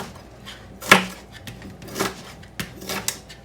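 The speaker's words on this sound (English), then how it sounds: "I can continue chopping" Rough chopping of vegetables with a knife on a cutting board during meal prep for an antipasto pasta salad: four or five sparse, uneven knife strikes, close and moderately loud, with no talking.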